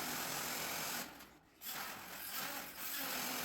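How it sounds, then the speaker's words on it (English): A battery-powered DeWalt oscillating multi-tool shaves metal overhang off the wall of an elevated hunting blind, a steady loud buzzing grind that briefly drops away midway before resuming. "So I brought out my battery-operated DeWalt multi-tool, which made pretty easy work shaving off the overhang"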